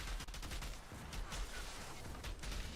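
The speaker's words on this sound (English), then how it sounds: "those explosions throw me off" Quiet, muffled bursts of gunfire and explosions from the video game Outriders rattle in rapid succession, distant and low in level.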